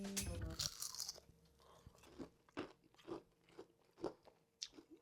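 Crispy herby roast potato being bitten into and chewed gives a series of sharp, close crunches, roughly a handful of distinct cracks spaced about half a second apart after a louder opening burst.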